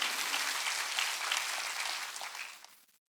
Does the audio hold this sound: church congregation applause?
yes